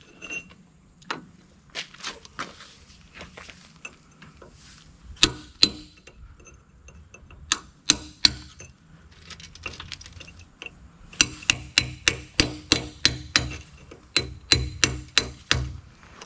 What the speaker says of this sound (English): I'm going to chisel them out now